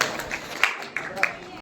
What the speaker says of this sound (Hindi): जोरदार तालियां बजा के विधायक जी को सरपंच साहब को स्वागत करें।